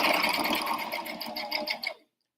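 A sewing machine stitches a folded seam on an apron in a fast, steady run of needle strokes, close and clear, then stops abruptly.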